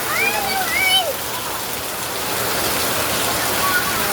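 Heavy rain pours down in Metro Manila during a flooding downpour, a dense, constant hiss of rain on surfaces throughout, with faint voices briefly heard early on.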